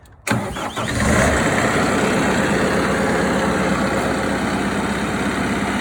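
A Carlton 7015 TRX stump grinder's engine turns over and catches, then runs on at a loud, steady, rumbling idle close by, with no talking.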